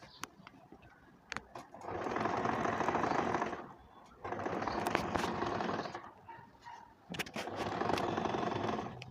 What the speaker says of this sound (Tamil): போட்டுட்டு நம்மளோட அந்த 2 பேனல்ஸையும் வச்சு அப்படியே ஸ்டிச் பண்ணிடலாம்.